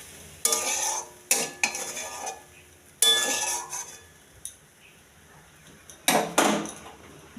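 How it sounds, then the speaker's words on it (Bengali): Palak paneer curry being stirred in a pan after water is added: several separate bursts of scraping and clinking spoon-on-pan stirring, with quiet gaps between, close and alone. "নাড়িয়ে নেব।"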